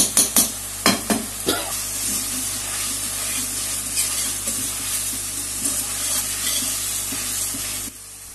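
Chopped garlic and cubed chicken sautéing in a hot pan, with sharp spoon scrapes and clinks in the first two seconds, then continuous crackling sizzle under brisk stirring until it stops abruptly near the end.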